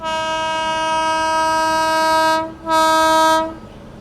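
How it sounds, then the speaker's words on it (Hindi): The Kerala Sampark Kranti Express sounds its horn as it passes: a loud, sustained two-blast horn, with the first long blast, a brief gap, then a shorter second blast over the steady rumble of the train. "सामने से आ रही है आप लोगों की तिरुवनंतपुरम से चलकर चंडीगढ़ की ओर जाने वाली केरला संपर्क क्रांति एक्सप्रेस आ रही है।"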